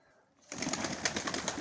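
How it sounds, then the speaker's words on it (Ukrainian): After a brief quiet moment, a burst of fluttering wingbeats starts and continues as Mykolaiv pigeons take off nearby. "дивлюсь, голуби перелітають"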